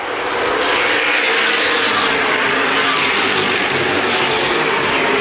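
Late model stock cars racing around the banked oval at Winchester Speedway, a dense, loud roar of several engines blending into a continuous wash of noise with no break, heard from trackside.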